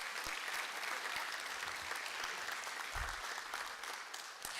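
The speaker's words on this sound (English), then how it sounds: "Let's give them another round of applause." A school board audience gives another round of applause for the Airline Vikings, a state championship high school team; even, continuous clapping from a crowd, moderately distant, running the full length without talk.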